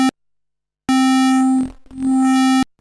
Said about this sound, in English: And finally the band pass filter.